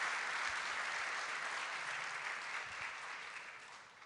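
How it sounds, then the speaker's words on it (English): Steady, soft applause from a forum audience greets guest Hillary Clinton at the Doha Forum 2025, an even, continuous wash of many hands that gradually tapers off. "I'm going to ask for one more proper warm round of applause for our guest, Hillary Clinton, please."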